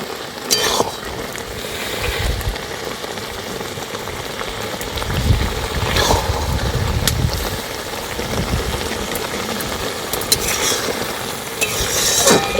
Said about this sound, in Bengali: এইভাবে নাড়াচাড়া করে কিন্তু রসটা এখানেই অনেকটাই শুকিয়ে নেব।